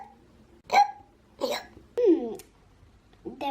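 A young girl hiccups several times in short, abrupt bursts spaced about half a second apart, close and fairly loud in a quiet room.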